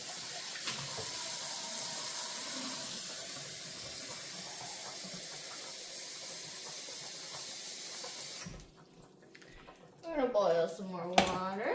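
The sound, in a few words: running water into a pot to boil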